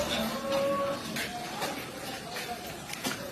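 A large Australian-breed cow on a cattle farm gives a low, faint moo partly masked by steady background noise, while people talk nearby.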